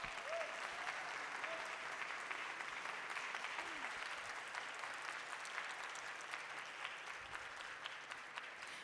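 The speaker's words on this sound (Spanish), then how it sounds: "Un aplauso, por favor." Applause rises from an audience at a book presentation during a book fair, welcoming author Juan Miguel Zunzunegui. The clapping is sustained and even, faint and somewhat distant, with no voices over it.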